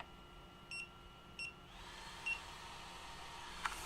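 Electronic goggles beeping repeatedly with short, evenly spaced tones over a steady background hiss, close and moderately quiet, with no talking.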